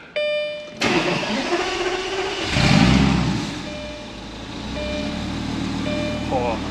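A Lamborghini supercar engine cranks and fires into a loud, close start-up, flaring to a roar before dropping to a rumbling idle, with electronic chimes sounding before and after.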